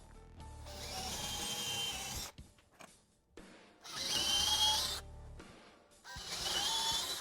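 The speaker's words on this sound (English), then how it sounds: "I now want to drill pilot holes for those lag screws" A power drill with a 7/32 bit bores pilot holes for lag screws while mounting brackets in a woodworking shop, three loud whirring bursts separated by short pauses, close up and with no talk.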